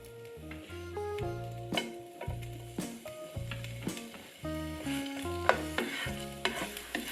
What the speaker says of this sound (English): Fry until you can get aroma.